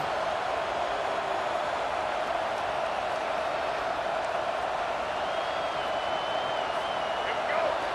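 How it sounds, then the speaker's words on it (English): Steady stadium crowd roar at a college football game against Texas A&M, a continuous dense wash of cheering and noise with a play-by-play voice talking over it throughout. "This crowd trying to make life miserable for this offense"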